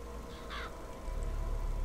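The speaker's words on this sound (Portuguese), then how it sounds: "O que, que um pássaro tá fazendo dentro daqui, galera?" A single brief, crow-like cawing bird call in the video game Bioshock Infinite, rising once over a steady, low ambient hum.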